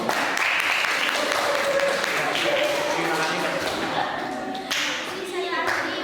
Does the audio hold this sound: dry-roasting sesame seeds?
no